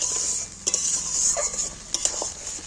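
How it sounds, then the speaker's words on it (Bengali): Chilli fish masala is stirred in a pan over a bright, steady sizzle, with a few clanks of the spoon against the pan at irregular moments; no voices. "এইটাকে একটু নেড়ে ফুটিয়ে দিই"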